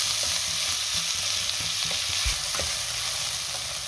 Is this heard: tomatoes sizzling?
yes